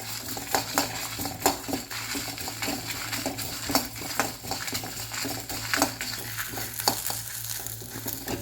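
Dried chillies, curry leaves and garlic frying in oil in a kadai for a tomato-based kulambu, a steady sizzle punctuated by repeated scraping and clinking of a spatula stirring against the pan.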